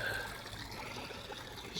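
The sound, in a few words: water falling over rock into garden pond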